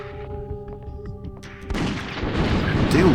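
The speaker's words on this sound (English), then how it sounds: "I do love that effect, the explosion." A video game explosion from Alien Trilogy on the PlayStation erupts halfway through as a dense, rumbling burst that swells and lingers, following a quieter stretch of tonal game sound and faint thuds.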